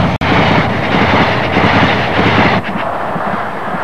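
An Intercity Express train thunders past outdoors in a dense, steady roar of rushing wheels and air, loud and close throughout with a slight easing near the end.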